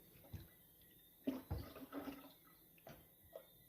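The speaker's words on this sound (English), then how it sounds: "we're going to pour this into a container so we can refrigerate it" Homemade Jamaican breadfruit punch pouring into a container in a kitchen, a few short splashy gushes of liquid with quiet pauses between, close and moderately soft.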